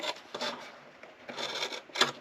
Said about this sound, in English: I very carefully, with a very sharp X-Acto, trim it away right along the edges.